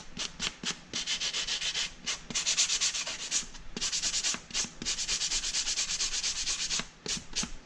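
Hand sanding of foam armor belt boxes with worn 80 grit sandpaper, a steady run of quick rhythmic rasping strokes, close and alone.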